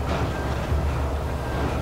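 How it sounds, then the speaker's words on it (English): Train approaching in the video game Alan Wake, a steady low rumbling roar of rail noise with a faint tonal whine, continuous and fairly loud throughout the short stretch. "We're gonna get hit by a train."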